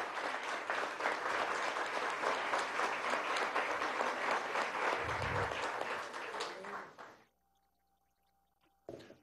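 Sustained audience applause at a Premio Nacional de Periodismo 2015 ceremony, dense and steady for about seven seconds before cutting off abruptly into near silence, with a faint tone and a brief bump at the end.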